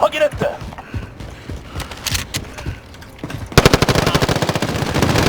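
Nearby firefight in Call of Duty Warzone: scattered gunshots, then loud, dense automatic fire that rattles on steadily as voices talk over it.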